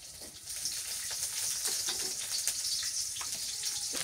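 Chopped onion sizzles in hot mustard oil while a fish curry is being cooked, giving a steady, fairly quiet frying hiss throughout with no talking.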